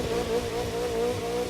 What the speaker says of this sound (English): cars are street racing.